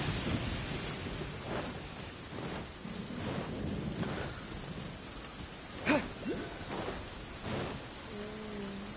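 Rain and thunder in Genshin Impact: a steady patter of rainfall with several low rolling thunder rumbles and one sharper crack near the middle, continuous throughout with no voice over it.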